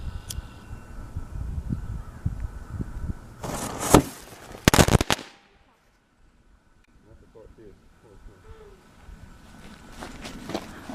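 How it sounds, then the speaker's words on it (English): A homemade firecracker of straight flash powder buried in a little ash goes off outdoors in a couple of sharp, loud cracks, with scuffing and movement before and faint rustling after. "now we'll start off with firecracker number 1, which I believe is just straight flash powder."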